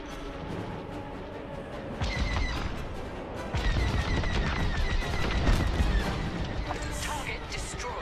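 Rapid starfighter laser fire in the space-combat game Star Wars Squadrons, dense repeated blasts with explosion-like bursts, loud and continuous, mixed with in-game voice chatter.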